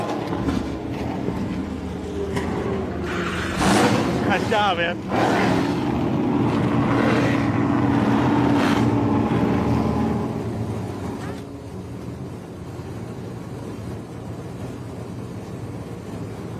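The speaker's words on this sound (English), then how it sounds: "that beautiful roar of muscle cars here at the Circuit of the Americas" Muscle car engines roar together at Circuit of the Americas as a pack fires up and revs, loud and sustained before easing off, with a brief voice heard over them.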